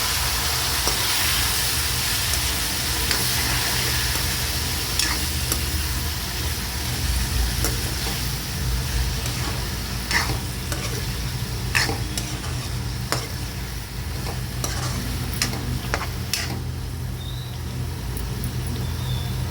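Eggplant pieces with turmeric fry in a hot pan with a steady loud sizzle, while a spoon scrapes and stirs in irregular clicks throughout.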